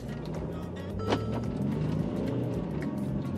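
A Mercedes GLE Coupe 350 diesel engine revs and pulls under acceleration in sport mode, a steady low rumble with rising tones, close and fairly loud, no talking.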